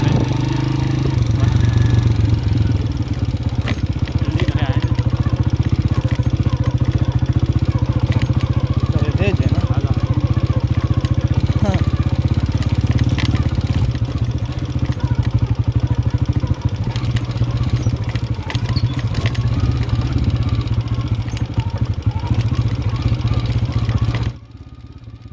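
A motorcycle ridden on a trip through Azad Kashmir toward Domel, a bike without working brakes, gives a loud, steady engine drone with rattling clatter for about 24 seconds before it suddenly drops away.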